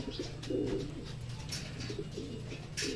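Racing pigeons at a loft on a pigeon race day, with low repeated cooing pulses over a steady background and a few sharper bird calls on top, close and moderately loud.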